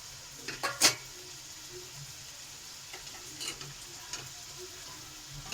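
Boiled lati, taro stolon, goes into a prawn curry in a pan. It gives a soft sizzle with a few sharp utensil clinks and scrapes near the start, then quieter intermittent stirring taps over a low simmer.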